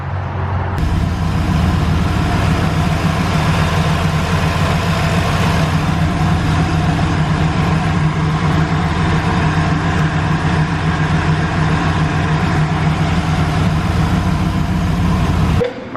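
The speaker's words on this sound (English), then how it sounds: "then we're just going to start the car until it runs out of gas" Turbocharged Chevy Nova engine idling loud and close, a continuous heavy rumble with a steady exhaust drone running unbroken for about fifteen seconds before cutting off abruptly.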